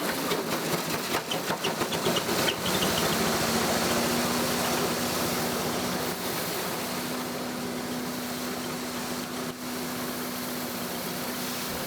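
A Haller coffee huller strips husks from dried beans with a steady, loud mechanical drone and a rattling churn, running continuously at close range with no pauses.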